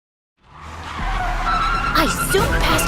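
A car speeds past other cars with tires skidding and squealing, a loud close rush of engine and tire noise that swells in and holds, with a voice speaking over it.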